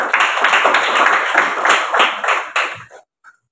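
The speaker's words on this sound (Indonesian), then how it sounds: "Kita aplaus buat kelompok matematika." A classroom of students applauding a mathematics group, with loud, dense, close clapping that holds steady for a few seconds, then tapers off and stops abruptly.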